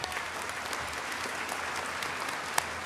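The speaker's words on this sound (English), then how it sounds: "One more round of applause." Steady, dense applause from a large crowd at a university commencement ceremony honouring honors program graduates, continuous and fairly loud throughout with no pauses.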